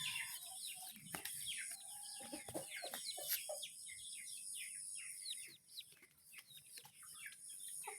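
A chick peeps in quick, high repeated chirps while being held outdoors, the faint calls overlapping steadily against a soft background.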